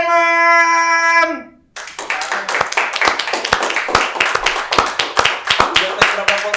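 Hand clapping in a podcast studio, a burst of several people clapping close up with sharp, uneven rapid claps, following a brief sustained musical tone.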